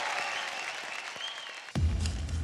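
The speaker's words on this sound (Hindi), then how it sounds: "जोरदार तालियां हो जाए" On a TV dance competition stage in India, an audience breaks into loud applause after a host's closing remarks, the clapping rising abruptly and continuing dense and close.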